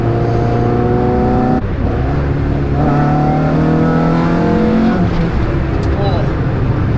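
A Renault Clio 182 engine revs hard and accelerates, its pitch climbing through the gears with a brief dip as it shifts, loud and close, with a voice speaking over it.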